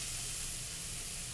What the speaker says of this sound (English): Hear that pan sizzle? What that's doing is caramelizing those onions, going to release all that sugar.